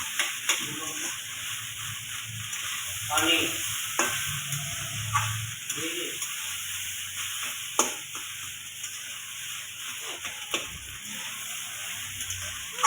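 Rice fries in a pan with repeated stirring, producing a soft continuous sizzle broken by scraping spatula strokes and a few sharp clicks, close and fairly quiet.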